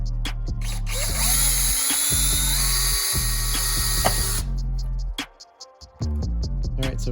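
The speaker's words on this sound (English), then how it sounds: "So all we're going to do is just drill out the little rivet on the inside there," Cordless drill fitted with a 5/64 bit drilling out a rivet on carbon fiber parts, steady high whine running for several seconds, briefly easing and stopping near the end, close and loud.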